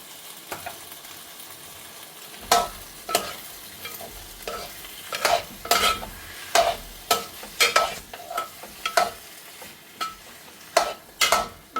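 Cooked pumpkin gravy being stirred in a pan, with a soft sizzle underneath and a steady run of sharp scraping strokes against the pan, close and fairly loud.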